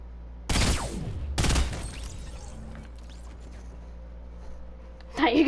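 Gunfire in a Fortnite match: two loud, sharp shots about a second apart, each ringing out and fading, then a quieter stretch before another burst of noise.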